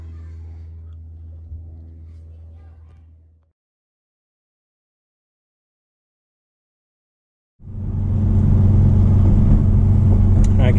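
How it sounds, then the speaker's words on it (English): A Hyundai Veloster N fitted with an HKS blow-off valve pulls hard, giving a loud, close engine rumble with a hissing edge. A short burst comes first, then a gap of near silence, then a sustained roaring pull to the end. "What you hear, the HKS BOV."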